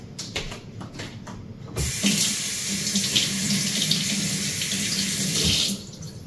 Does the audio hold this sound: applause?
no